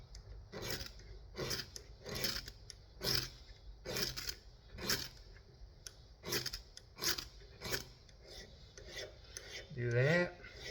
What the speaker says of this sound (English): I'm actually going to get my smaller ferro rod because I seem to throw off more sparks of that